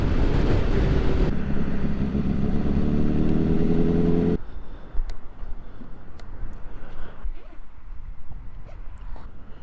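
A motorcycle cruising along Lake Pepin, its engine droning loud with wind buffeting for the first few seconds, then dropping to a quieter, steady hum with scattered clicks and rustles.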